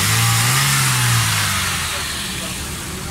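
A 2007 Toyota Corolla XLI engine revs up after tuning work on a missing and pickup problem, a loud nearby rise in pitch that settles back toward a steady idle, with people talking over it.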